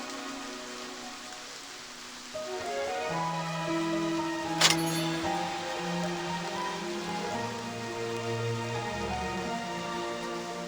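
Steady rain hisses throughout beneath soft sustained music, with one sharp click partway through.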